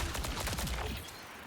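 Gunfire in the shooter game Marathon, a quick rattling burst of rapid shots over about a second before cutting off, moderately loud.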